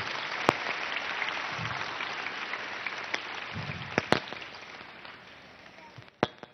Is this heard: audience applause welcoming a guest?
yes